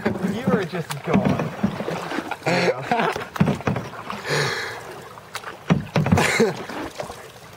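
Canoe paddling on open water, with paddle strokes and splashes recurring at an uneven rhythm close by, mixed with wind buffeting and frequent conversation between the paddlers.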